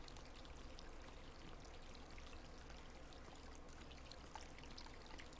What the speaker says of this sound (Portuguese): Tem um barulho de água.